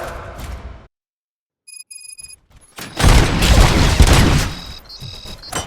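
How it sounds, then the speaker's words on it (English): Gunfire bursts from the RoboCop: Rogue City video game, a loud, dense barrage filling the second half after a silent gap and brief electronic tones. "Gunshots? What's going on?"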